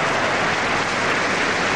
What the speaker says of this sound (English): I don't know if you can hear that applause, Corey, but they like you here